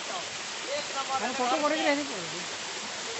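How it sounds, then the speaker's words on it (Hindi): Water rushes steadily down a forest stream toward a waterfall deep in the jungle, a constant broadband wash close by, with someone talking over it. "ये नीचे की ओर जा रहा है ये पानी"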